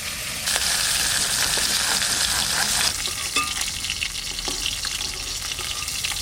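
Koi fish fry in hot oil in a home kitchen, a loud continuous sizzle with stirring clatter and a few sharp scrapes, easing slightly partway through.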